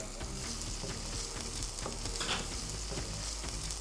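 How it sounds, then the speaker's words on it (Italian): Chopped chili pepper, seeds removed, goes into a pan of already hot oil for a seafood pasta, and it sizzles and crackles steadily and loudly throughout, with a few stirring scrapes and no talking. "E trasferisco tutto in padella con l'olio già caldo."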